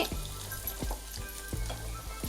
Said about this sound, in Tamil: இங்கே பாருங்கள் உருளைக்கிழங்கு நல்லா ஃப்ரை ஆயிடுச்சு